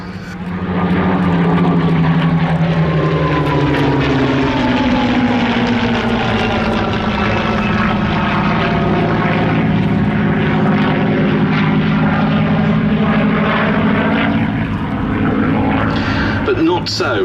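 Propeller fighter aircraft, a Buchón or Yak-3, flying at the Duxford Battle of Britain airshow; a loud, sustained engine roar with a sweeping pitch shift as it passes, under steady commentary.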